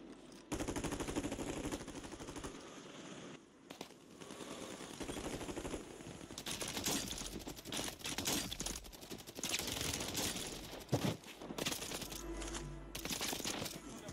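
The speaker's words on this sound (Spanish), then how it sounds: "esta es el mejor rifle de asalto de todo Warzone" Rapid automatic assault rifle fire in the video game Warzone, with dense bursts of shots throughout, some brief pauses and a heavy boom near the end, set against game ambience.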